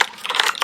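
Keys on a wireless keyboard are tapped in a quick, close-up cluster of light clicks lasting under a second.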